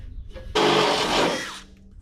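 A power drill spins a unibit step bit through thick sheet metal on a 1986 Chevy C10 squarebody pickup: one loud, steady, high whirring grind lasting about a second, close up, then winding down.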